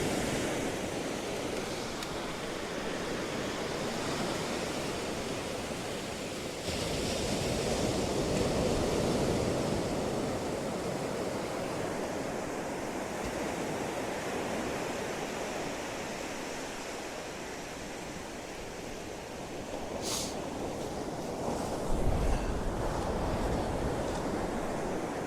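Sea waves break steadily on Tyninghame Beach on Scotland's east coast, a continuous rushing surf with swells of louder wash, mixed with wind noise on the microphone, and no talking.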